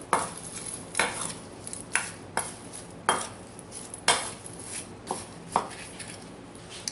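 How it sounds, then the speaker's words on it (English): Spoon scraping and knocking against a container while stirring dehydrated rice and vegetable jambalaya mix, a series of about eight close, distinct scrapes with a soft dry rustle between them. "So I'm just stirring this all together here"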